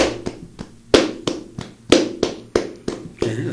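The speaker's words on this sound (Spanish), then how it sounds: "Esos son palmas sordas" Flamenco muted hand claps, palmas sordas, made with cupped hands as about a dozen dull, soft slaps in a steady rhythm, close and clear with no other sound.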